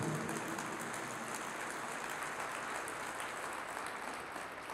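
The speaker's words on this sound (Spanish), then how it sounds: "Fuertes aplausos al Rey de Reyes y al Señor de Señores." A congregation at a church service claps in soft, steady applause that holds evenly throughout, distant and fairly faint with no voice over it.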